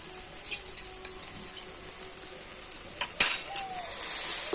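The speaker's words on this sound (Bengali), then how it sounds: "সমস্ত মশলাটা একটুখানি ভেজে নেবে" Turmeric, cumin and coriander powder with ginger paste frying briefly in a pan, a quiet steady sizzle with light scraping and stirring, then a sharp clink of a utensil and the sizzle growing louder toward the end.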